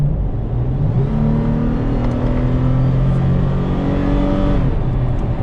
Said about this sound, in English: We're gonna give it a little acceleration.